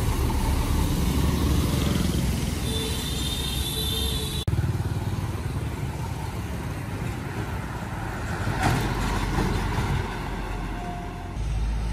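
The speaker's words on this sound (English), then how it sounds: "Truck cranes." Heavy truck crane engine running steadily, a loud continuous diesel rumble with broad road-traffic noise, sustained throughout with no talking.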